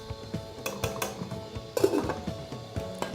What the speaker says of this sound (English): So I'll slip on the lid